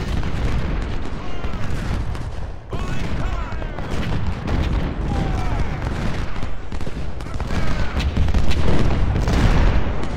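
Dense, continuous volleys of musket and cannon fire rumble through a Civil War battle in the strategy game Ultimate General: Civil War, with booming blasts and crackling rifle fire layered throughout and someone speaking German over the din.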